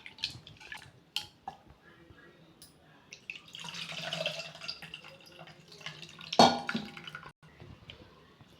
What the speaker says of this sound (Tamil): புது புளியை தண்ணியில் நல்லா ஊற வச்சு அதை நல்லா கரைச்சி ஃபில்ட்ரு பண்ணி எடுத்துக்கலாம்